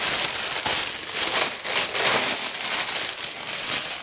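A shopping bag crinkles and rustles steadily as it is handled up close, with bursts of crisp crackling rising and falling throughout and no voices.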